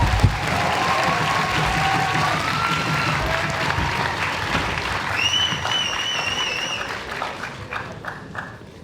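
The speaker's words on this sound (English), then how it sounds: "a round of applause for all those speakers" An audience at the European Universities Debating Championship grand final in Copenhagen gives the speakers a long, loud round of applause, dense steady clapping with a few whistles, tapering off at the end.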